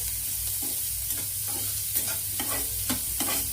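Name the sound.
stirring and mixing fried rice ingredients in pan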